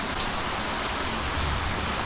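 Steady rain falls near a firewood shed, a constant, even wash of noise with no talking.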